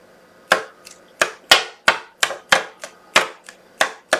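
Repeated sharp taps on a stamping craft piece to knock off excess material, about ten crisp knocks in an uneven rhythm, close and fairly loud with no talk.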